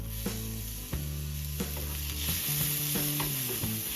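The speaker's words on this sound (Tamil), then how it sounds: "இப்போ தவாவில் ஆயில் ஆட் பண்ணி அதில் வெங்காயத்தை போட்டு நல்லா வதக்கி விட்டுருங்க." Chopped onions sauté in oil on a tawa with a bright, steady sizzle, broken by a few sharp scraping strokes of a spatula stirring them, heard close and alone without speech.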